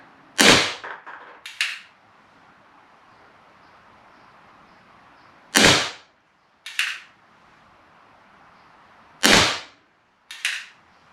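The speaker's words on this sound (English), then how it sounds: "I can tell I'm not shooting very straight." A Barra Schofield BB gun fires in three pairs of sharp, close cracks, each shot followed a second later by a softer pop, with quiet pauses of several seconds between pairs.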